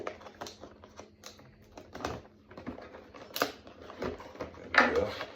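Cutting a NECA Michael Myers action figure out of its packaging, with close, irregular snips, crinkles and clicks of scissors through plastic and cardboard, rising to a louder tearing crunch near the end.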